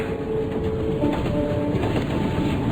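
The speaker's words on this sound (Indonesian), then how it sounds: "Ketika aku bangun, kulihat kereta ini menurunkan kecepatannya." A train in a horror video game rolls and rumbles steadily as it slows, a dense low clatter with faint metallic squeals and tones above, continuous and fairly loud without voices.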